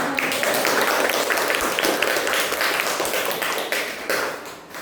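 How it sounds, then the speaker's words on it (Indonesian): A classroom of students clapping for a presenting group, a dense, steady wash of applause close by that carries on throughout and fades slightly at the end. "Beri tepuk tangan untuk kelompok kalian."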